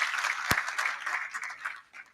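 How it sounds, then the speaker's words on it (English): An audience at a Kisumu County arts and film literacy event applauds steadily, a dense wash of clapping from many hands that fades slightly toward the end. "It deserves a clap."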